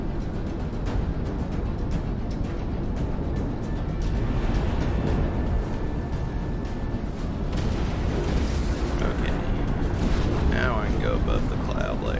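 Cannon fire and missile launches from a jet fighter in the flight combat game Project Wingman, a dense continuous rumble of engine roar and bursts playing loud and steady throughout.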